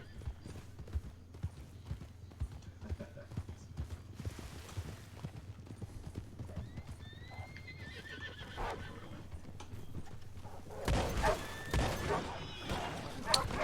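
A horse whinnies and its hooves clip-clop in a rhythmic run of steps, set against quiet background noise. The sound grows busier and louder toward the end, and voices speak faintly underneath.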